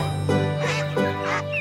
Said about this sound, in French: maman canard et ses canetons